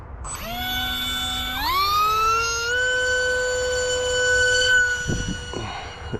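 Electric motor and propeller of an Atomrc White Dolphin RC plane whine steadily at launch, pitch stepping upward twice as it climbs and sustains a loud, even tone before fading, with a few faint thumps near the end.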